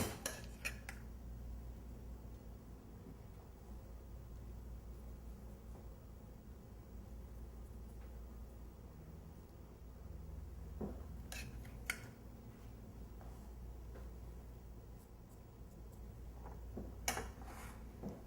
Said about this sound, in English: now I'm going to spoon in the apple filling